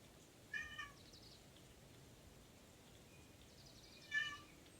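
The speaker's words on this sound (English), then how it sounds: "Maya, I heard meowing." Pet cat Maya meowing twice, faint and a short distance away, with a long quiet gap between the two calls.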